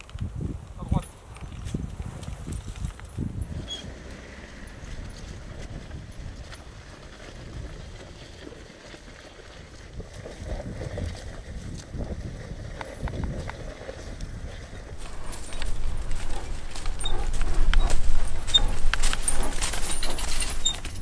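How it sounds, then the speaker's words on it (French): A work horse walks between vineyard rows while plowing in Bourgueil, its hooves giving soft, irregular clops and thuds mixed with jingling harness and plow scrape, under steady conversation, with the scraping growing louder toward the end. "la première raie de labour, en fait, le cheval se tient en fait sur sa droite le long de la rangée"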